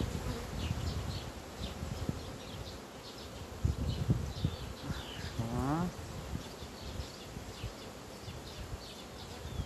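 Honey bees buzzing at an open beehive during queen rearing, a dense steady hum of many insects close by, with a few brief knocks and a faint bird call partway through.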